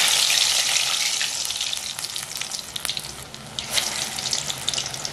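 Urad dal vadas hiss loudly in hot oil, a dense, close sizzle that is strongest at the start and settles into a steady crackle with scattered pops.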